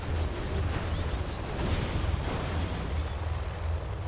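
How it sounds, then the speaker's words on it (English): Artillery fire in the real-time strategy game Command & Conquer: Generals Zero Hour rumbles as a dense, continuous wash of booming explosions, steady and heavy throughout with no talk. "Artillery now coming in."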